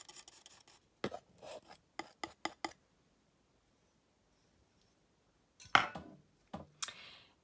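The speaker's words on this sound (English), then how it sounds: "Mix it all together really well" A paintbrush mixes two paints roughly half and half, giving short scratchy rasping strokes in quick bursts, then a pause and a few more scrapes, close and fairly quiet.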